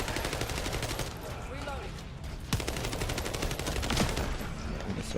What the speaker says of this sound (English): When I use my ability while buffed, my gun doesn't take up any bullets, so I can just keep firing for a bit.